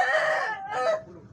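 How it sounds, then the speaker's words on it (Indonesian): A large, tall rooster of more than three kilograms crows loudly at a bird market, one long close-up call that trails off into quieter market background. "Ayam tinggi besar panjang."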